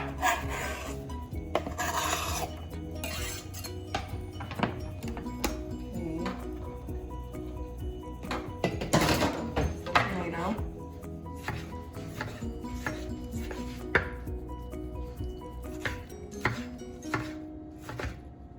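A kitchen knife chops onion and tomato on a board in quick, irregular taps and scraping cuts, close and fairly quiet, with a louder burst of rapid chopping midway.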